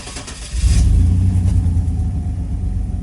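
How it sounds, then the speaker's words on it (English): Chevrolet Camaro engine cranking and catching, then a loud, steady low rumble settling in close by with no talking. "let's see how long it takes to start."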